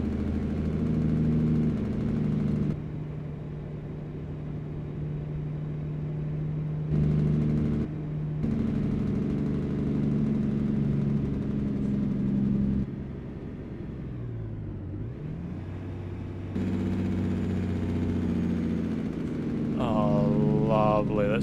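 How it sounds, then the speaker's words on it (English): A heavy truck engine-brakes on a downhill grade in American Truck Simulator, a loud droning rumble with shifting pitch that drops out and returns in stages, and a voice is briefly heard near the end. "we probably want to start using a bit of the engine braking coming down this hill"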